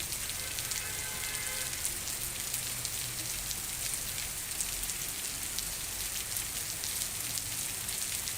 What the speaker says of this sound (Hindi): दोपहर होते होते हुई तेज बारिश ने माहौल में ठंडक घोल दी है